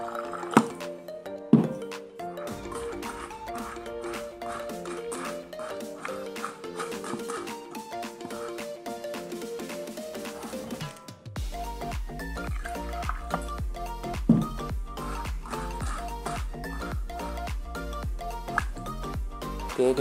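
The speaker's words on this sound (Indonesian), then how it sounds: "Dan aku tuangkan air secukupnya ya untuk masak nasi." Water is poured into a 1.5-liter mini rice cooker for cooking rice, a steady close trickling and splashing stream that runs throughout, shifting to a fuller, deeper filling sound partway through.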